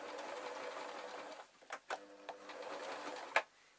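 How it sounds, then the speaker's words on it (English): A sewing machine stitching fabric, sewing cat ears made from black socks, in short bursts, a quick mechanical whirr that starts, pauses and restarts, fairly quiet and close. "under the sewing machine. And I'm going to do a good couple of stitches."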